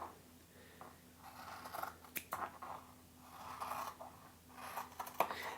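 Scissors snip through paper as rabbit shapes are cut out for an Easter bunny craft, a run of close, soft crisp cuts and rustles in a quiet room.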